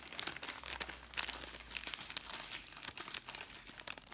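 A plastic sachet is crinkled and snipped open with scissors, giving a close run of sharp crackling and rustling bursts for several seconds, with no talk.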